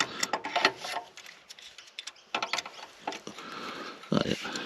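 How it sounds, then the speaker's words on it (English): An adjustable wrench clicks and scrapes while tightening a bolt in an awkward spot on a Fordson Power Major tractor crane, with irregular metallic ticks and knocks at close range. "as long as this shifter will tighten this bolt up, you'll be right"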